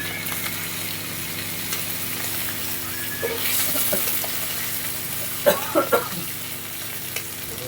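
Bhola fish frying in a little oil, a steady sizzle with a few louder spatters and scrapes toward the end as the pieces are turned, close and without voices.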